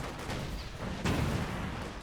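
Distant artillery-style booms and scattered shots rumble from a real-time strategy battle, one heavier impact standing out midway, faint and low beneath the general battle ambience.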